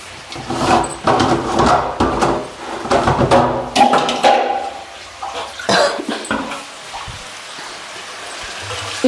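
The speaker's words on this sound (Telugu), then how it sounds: "ఇప్పుడు తగినన్ని నీళ్ళు అయితే పోసుకుందామండి" Water is poured into a cooking pot of raw bean curry, uneven splashing bursts up close that taper off into a softer trickle near the end.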